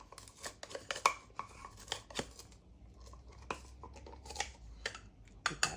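A small hand gadget crushes garlic cloves with a series of sharp clicks, taps and squishy crunches, close and fairly quiet, with no voices.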